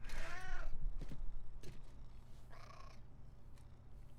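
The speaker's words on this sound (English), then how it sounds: "Listen to the purr!" A cat character in the Overwatch video game purring and meowing, with a drawn-out whiny meow up front, then short purring bursts and another meow, fairly quiet over a low game background.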